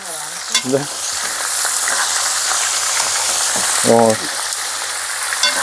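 Pork fat sizzles loudly and steadily in a hot pan, with brief scraping and clinking from stirring now and then.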